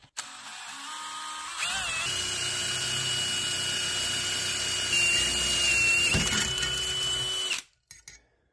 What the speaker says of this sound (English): First, I'm going to drill the hole.